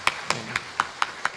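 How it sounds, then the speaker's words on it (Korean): Six sharp, evenly spaced claps ring out at a steady rhythm, close and distinct, as a church congregation applauds during a Sunday service, with no other sound between them. "우리 한번 박수로 한번 격려해 주시겠습니까?"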